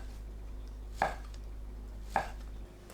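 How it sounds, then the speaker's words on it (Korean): A square fish cake is cut into 1 cm strips with a knife, giving two separate sharp chops on a cutting board about a second apart, close and clear over a low steady hum. "사각 어묵은 반 자르고 1cm 너비로 썰어줍니다."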